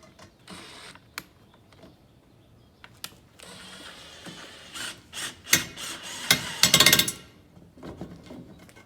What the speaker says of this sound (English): Just drilling in the squares.